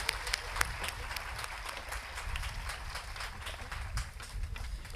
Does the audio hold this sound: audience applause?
yes